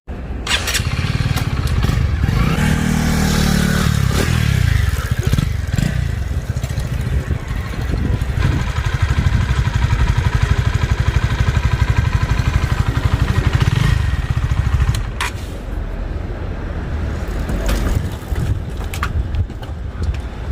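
A Honda CB125R motorcycle is loaded using a bike ramp, with a steady engine rumble, clanks and scraping of metal, and a rushing wind-like noise throughout.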